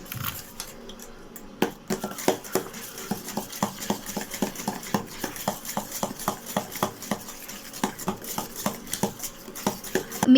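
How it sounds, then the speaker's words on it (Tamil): A spoon beating homemade cake cream in a bowl by hand, producing a fast, regular series of sharp clinks and taps that keeps going steadily. "இப்போ ஒரு கரண்டி வச்சு ஒரு 10 மினிட்ஸ் நல்லா பீட் பண்ணிக்கணும்"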